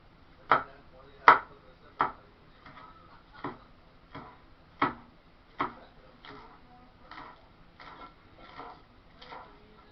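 A knife chops green onions on a cutting board in about a dozen sharp, evenly spaced strokes. Each chop is crisp and close, with nothing else heard.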